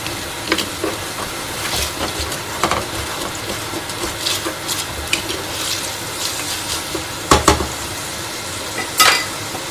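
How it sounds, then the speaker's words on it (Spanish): Green and red peppers sautéing in a pan, heard as a continuous close sizzle with intermittent stirring scrapes and clatters of the utensil. "Y lo vamos a dejar sofreír un poquito"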